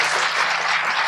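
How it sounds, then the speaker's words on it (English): A round of applause from the audience at a Q&A event, a steady dense wash of clapping at close range with no speech over it. "Let's give Abdul a round of applause, everybody."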